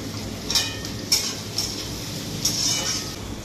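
Onions and tomatoes frying in a pan, a steady soft sizzle with a few short scraping stirs spaced through the few seconds, close and moderately quiet, no talking.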